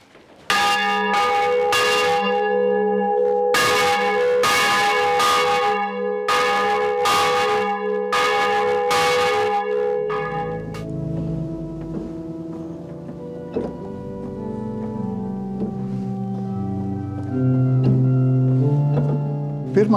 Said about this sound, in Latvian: bet zvans skan vēl joprojām